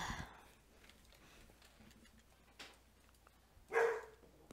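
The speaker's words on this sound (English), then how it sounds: "that's my doggy" A pet dog barks once, a short loud yelp standing out near the end over a quiet room with faint background noise and a softer earlier sound.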